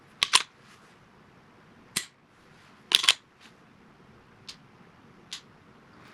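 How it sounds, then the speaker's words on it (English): Dry-fire trigger squeezes and resets on a Springfield XD-M Elite handgun, giving a series of sharp, quiet clicks spaced about a second apart over a faint background hiss. "Let's go through the squeeze and the release real quick."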